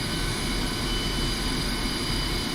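A steady, broadband jet engine roar of an Su-25 in a video game, holding at a constant idle, loud and unchanging throughout, with no voices.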